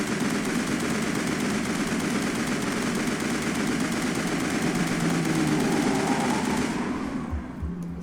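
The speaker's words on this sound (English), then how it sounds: "you can kind of just go and fire all the shots over here" Sustained automatic gunfire from the video game Mass Effect, a dense rapid stream of shots lasting about seven seconds at steady loud level, then cutting off abruptly into quiet.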